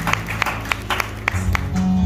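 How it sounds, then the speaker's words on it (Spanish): Clapping from a church congregation after a hymn, a steady run of sharp hand claps rising from a scattered start into fuller applause, close and fairly loud. "Vamos a fuerte aplauso para ese canto."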